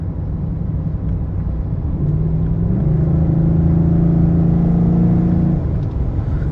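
A 2015-2017 Ford F-150 with a 5.0L V8 and a Banks Ram-Air intake drives at low RPM, giving a steady, close engine rumble with a rising drone through the middle, with no one speaking.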